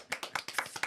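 A single person claps hands in a radio football show studio, about eight quick, close, crisp claps in an even rhythm with no talk over them.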